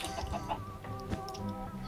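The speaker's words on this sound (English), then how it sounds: "this is the outside pool where the chicken's just taking a swim" A Minecraft chicken clucks several times in short bursts over a faint steady hum, close and moderately quiet.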